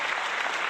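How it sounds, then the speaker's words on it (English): A canned clapping sound effect plays on a sports talk livestream, a short, even wash of dense applause at moderate level with no voices over it. "Let's get some clapping in here"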